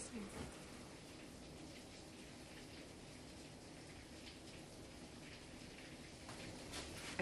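Steady rain falls outside, a dense, even hiss of drops on surfaces that holds at the same level throughout with no break.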